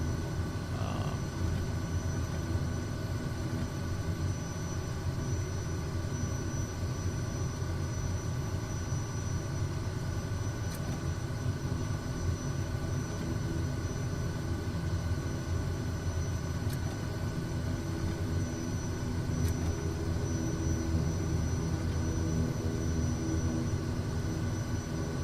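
Simulated single-engine turboprop PC-12 taxiing at around 22 knots in Microsoft Flight Simulator 2024, a steady droning engine hum with low rumble that holds level and unbroken throughout, with no talk.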